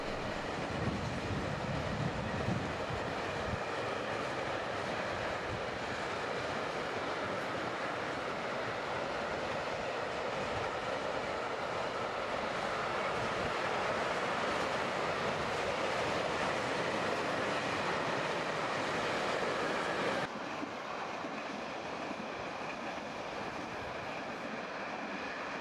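A heavy freight train hauled by a pair of multi-system Siemens electric locomotives, carrying semi-trailers and swap bodies on Austria's Brenner railway, rumbles steadily past at close range, a continuous roar with faint rail clatter, easing slightly near the end.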